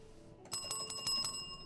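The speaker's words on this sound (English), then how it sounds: "anytime I see a bell, I have to touch it." In the PC game Erica, a small bell rings repeatedly, with five or six bright metallic strikes in quick succession that ring out clearly over quiet background hum.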